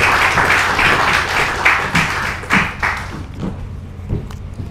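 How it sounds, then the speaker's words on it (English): Close, loud applause at an inauguration ceremony for an International SOS office in Mauritius, dense clapping that tapers into a few separate claps and dies away. "Sous vos applaudissements"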